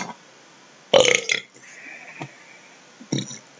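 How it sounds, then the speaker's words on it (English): Belches after a snack of chocolate chip cookies and Dr Pepper: one loud, drawn-out burp, a faint short one, then a second shorter burp, with no talking. "I am one ball of belch"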